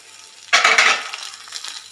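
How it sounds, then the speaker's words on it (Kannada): Onions hit a hot pan with green chilies and burst into a sudden, loud, close sizzle that crackles, then slowly fades to a steady frying hiss. "ಅದನ್ನು ಸಹ ಈರುಳ್ಳಿ ಹಾಕಿ ಸ್ವಲ್ಪ ಫ್ರೈ ಮಾಡ್ತಾ ಬನ್ನಿ"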